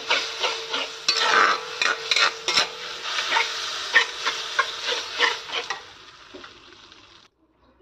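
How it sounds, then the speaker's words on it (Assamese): Food frying in a pan with a bit of added water, a soft steady sizzle broken by repeated scraping strokes of a spatula stirring the pieces, close up, fading out toward the end. "ভাজি ল'ম ধুনীয়াকৈ এতিয়া"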